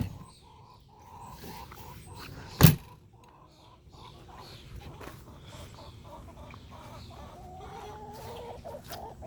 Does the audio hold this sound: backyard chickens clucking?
yes